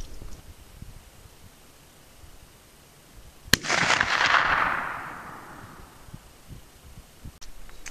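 A single loud, sharp rifle shot from a 45-70 firing a 500-grain bullet outdoors on an icy range, cracking abruptly and then rolling off into a rumbling echo that fades over several seconds.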